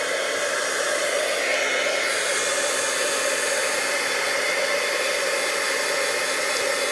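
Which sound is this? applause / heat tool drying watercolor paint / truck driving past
heat tool drying watercolor paint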